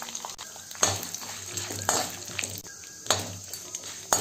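Cashew nuts fry in a pan with a light sizzle, broken by repeated scraping and clinking as a utensil stirs them, close and uneven in rhythm.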